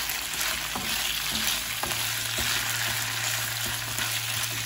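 Shrimp and onion sauté in a hot pan, giving a steady, close sizzle with soft stirring clicks and scrapes scattered through, no voices.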